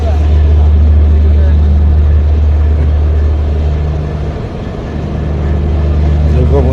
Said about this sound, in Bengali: তো ইঞ্জিনের শব্দ তোমরা শুনতে পাচ্ছ।